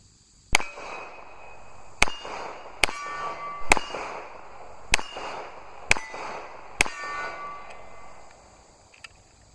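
A Baby Desert Eagle pistol firing Tula steel-case ammunition lets off seven or eight sharp, ringing shots at uneven intervals about a second apart, each decaying quickly, with no talk.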